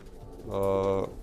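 A single soft pigeon coo, a brief low murmuring call, heard close and fairly quiet against faint background noise.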